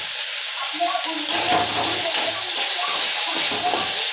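Water comes to a boil in a pot on the stove while masala rice is being made, a steady hiss and bubbling roar that grows slightly louder partway through, with low rumbling underneath.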